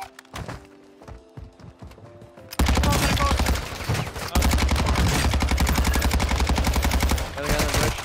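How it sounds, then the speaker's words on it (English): Heavy automatic gunfire in the video game Warzone: quieter scattered game sounds at first, then loud sustained rapid-fire bursts dominating the rest. "I hear a shotgun."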